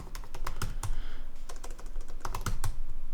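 Fast, uneven typing on a computer keyboard close by, with clustered keystroke bursts and brief pauses between them, and no talk.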